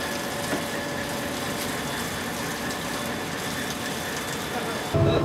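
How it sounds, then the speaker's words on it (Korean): Rough sea waves crash and wash around a mackerel fishing boat on a cold day, a dense, loud, unbroken roar mixed with a droning engine. "춥기도 하지만 파도가 너무 많이 칩니다."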